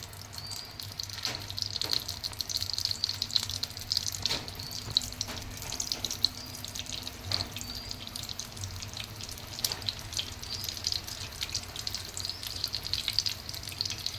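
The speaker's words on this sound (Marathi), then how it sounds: "याच्यामध्ये शॅलो फ्राय करू" Rajma (kidney bean) tikki patties shallow frying in oil, giving a steady close sizzle with scattered crackles and pops throughout, no voices.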